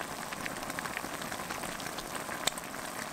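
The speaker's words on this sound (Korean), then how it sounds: "지금은 바지락이 맛있게 익는 시간입니다." Clams steam in a tomato broth with water under a lid over high heat, giving a soft, steady bubbling and fine crackling hiss with a small pop near the end.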